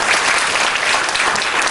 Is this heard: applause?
yes